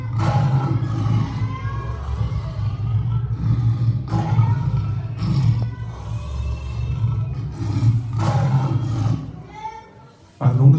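A person's voice imitates a lion's roar at a children's event in a library, several long, growling roars in a row, loud and close, with a short pause near the end before one more burst.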